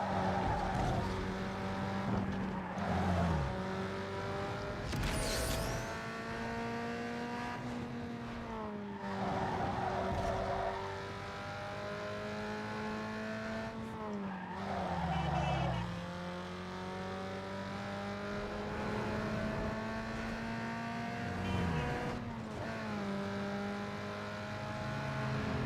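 Race car engine revving and tires skidding in the video game Need for Speed Underground 2, a continuous droning motor with rising and falling pitch through gear shifts and occasional squeals.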